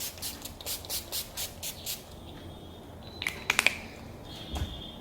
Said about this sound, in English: This is the NYX setting spray.